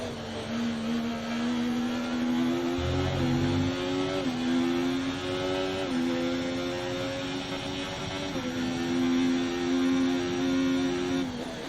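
Ferrari Formula 1 car engine in the F1 24 video game on the Bahrain circuit, a continuous high whine that climbs in steps through repeated gear shifts, steady and close with no talk.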